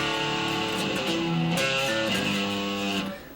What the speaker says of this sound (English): you'll hear the last part of the verse riff played with high distortion